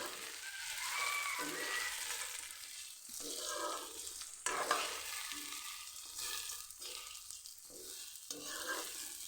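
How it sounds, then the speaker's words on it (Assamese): Maggi noodles stirred in a pan, repeated scraping and shuffling strokes over a soft sizzle, uneven rhythm with short pauses between strokes, close and moderately quiet, no speech. "আহক এতিয়া ভালকৈ লৰাই দি দিওঁ"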